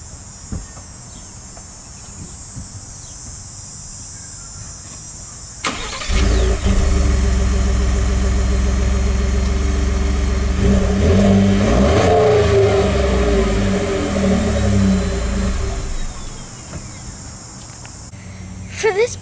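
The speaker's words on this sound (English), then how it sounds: "The stock 3-inch pipe sounds weak" Insects chirp steadily outdoors until a 2018 Ford F-150 3.5L EcoBoost pickup with stock 3-inch exhaust starts up and idles with a deep rumble, then revs several times before settling.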